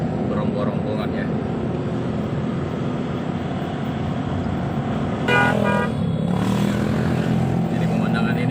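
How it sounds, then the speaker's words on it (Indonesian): A weekend motorcycle convoy passing on a mountain road toward Malino makes a dense, continuous roar of engines, with a horn toot partway through and traffic noise throughout. "konvoy motor seperti ini"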